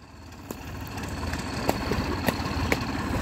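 A Farmtrac tractor pulling a cultivator at a rain-soaked harrow competition, its engine a steady low rumble that grows slightly louder, with a few sharp knocks cutting through.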